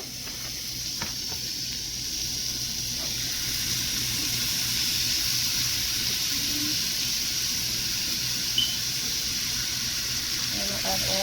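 Shrimp cook in butter in a pot on medium heat, giving a continuous, moderately loud sizzling hiss that builds slightly and holds steady, with a faint clink near the end.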